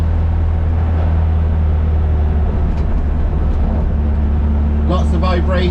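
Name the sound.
stripped-out Toyota MR2 Mk3 car driving noise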